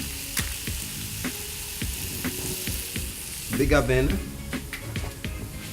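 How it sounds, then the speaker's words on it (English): A stir fry sizzles hard in a bigger pan on a large burner, a steady frying hiss broken by sharp clatters of stirring and a louder surge of crackle midway, with people talking over the cooking. "And then we're going to do a stir fry, so we'll go on a bigger burner."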